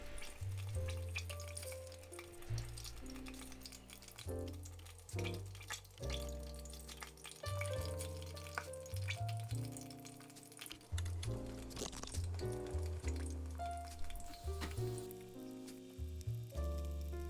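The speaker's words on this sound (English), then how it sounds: "lift up a fish stick and drain it for about 2 seconds and place it into your oil" Beer-battered flounder fish sticks fry in hot oil with a continuous crackling sizzle and occasional pops, heard close and quietly beneath a steady backing music bed, with no talking.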